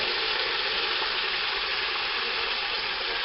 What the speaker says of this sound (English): there's water in here, so it's gonna sizzle a lot